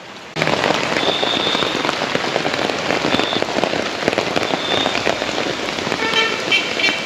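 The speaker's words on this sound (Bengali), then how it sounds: "দেখ কত বৃষ্টি" Heavy rain pours down in a dense, steady hiss of drops drumming on surfaces, loud and close, starting abruptly and continuing without a break, with no talking.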